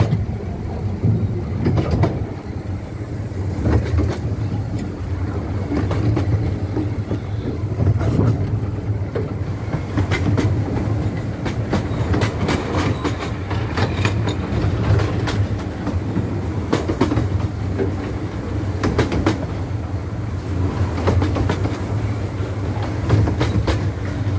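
A Cleethorpes Coast Light Railway train passing close by, a sustained rumble with rhythmic clickety-clack of wheels over rail joints holding steady at loud level throughout.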